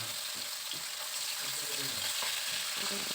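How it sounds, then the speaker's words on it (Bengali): Large silvery mourala fish frying in hot oil in a kadai, a steady close crackling sizzle with soft bubbling and occasional low stirring thumps throughout. "তেল গরম হয়ে যাওয়ার পর এবার মাছগুলোকে দিয়ে ভেজে নেব"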